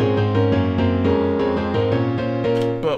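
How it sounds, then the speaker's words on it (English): Default stock FL Keys piano plugin in FL Studio 20 playing MIDI chords, a steady sequence of sustained, evenly struck harmonic notes, clean and close with no talking. "this is of course one of the stock piano plugins included in FL Studio"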